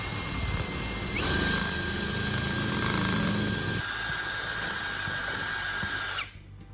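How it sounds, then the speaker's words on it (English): A power drill bores holes into a small piece of wood, whining loudly and steadily for several seconds, deepening as the bit cuts in, then stopping abruptly. "And I'll mark 2 points on the small piece of wood and drill holes there."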